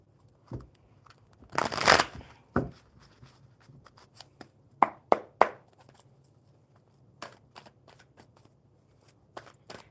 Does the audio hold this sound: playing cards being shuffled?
yes